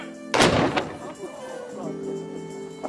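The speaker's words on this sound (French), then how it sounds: "C'est dans ces jardins qu'un coup de canon retentit symboliquement chaque jour à midi et à 16 h" A ceremonial cannon fired in the gardens of Valletta, Malta, one loud, deep boom with a sharp onset followed by a long rolling echo fading over a couple of seconds, with faint background ambience.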